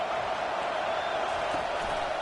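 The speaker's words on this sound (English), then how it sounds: "Listen to this crowd just shaking the girders of this place" A football stadium crowd roars steadily to urge on its defense, a dense, unbroken wash of many voices filling the space.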